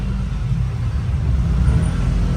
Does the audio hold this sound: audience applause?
no